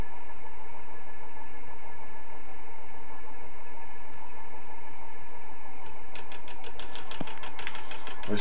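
An experimental three-phase motor rotor with a loose magnet spins on its chassis, giving a steady, even whirring hum with tonal overtones, then a fast run of light ticking near the end.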